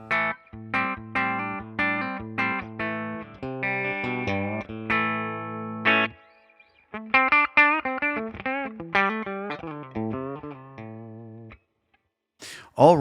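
An electric guitar played through a Mesa/Boogie California Tweed 1x12 amp simulation, mic'd with ribbon and dynamic mics, rings out clean, separate chords and notes in two phrases split by a short pause.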